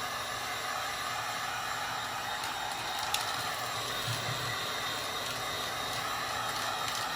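A heat gun runs on its lowest setting, giving a steady, even rush of airflow that holds at the same level for the whole stretch, close and alone with no talking.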